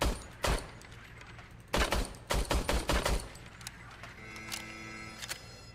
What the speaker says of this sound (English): That seems to be shooting straight. Your service weapon is calibrated.